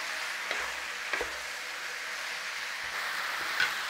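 Topside beef sizzles steadily in a pot with a constant frying hiss, broken by a few soft clinks and stirring bumps, with no talking.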